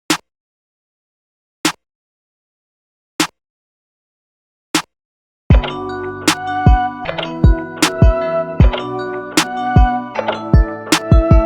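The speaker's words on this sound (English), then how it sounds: "the Luger snare and the Luger slap clap" Layered Luger snare and Luger slap clap drum samples strike four times alone at a steady, even spacing, then keep hitting inside a fuller programmed beat that comes in halfway through.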